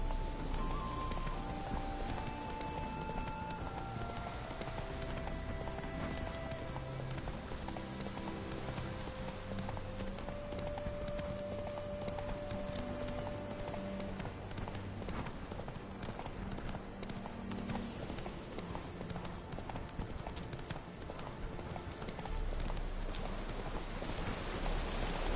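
Horse hooves galloping steadily in The Witcher 3 video game, a continuous rhythmic clip-clop under game music lasting throughout.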